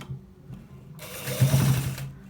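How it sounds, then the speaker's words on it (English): A sewing machine runs in short bursts while stitching a shirt, its motor whirring briefly, pausing, then building into a louder, sustained stitching run close to the microphone. "So we are stitching it from this part to the what, the end part"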